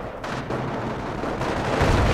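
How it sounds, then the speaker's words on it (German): Gunfire and artillery in the Company of Heroes war game crack and boom in dense, overlapping bursts, loud and close, with a heavy blast swelling at the end. "Ich werde beschossen!"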